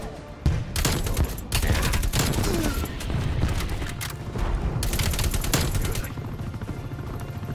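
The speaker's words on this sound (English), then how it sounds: "Bit of AK action." AK rifle fire in the video game Call of Duty Black Ops Cold War, a dense, continuous clatter of rapid shots and impacts running through the whole stretch at steady loudness.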